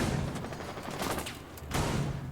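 Rapid bursts of gunfire crackle in quick succession in the video game Rainbow Six Siege, fairly close and sustained, with a brief lull before another volley.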